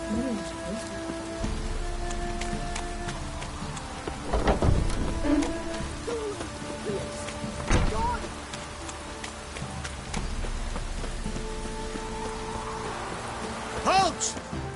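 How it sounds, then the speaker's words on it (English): Rain patters steadily in a PS4 video game, a soft constant hiss broken by a few louder thumps and rumbles, with faint game voices and sounds layered over it. "Looks like rain."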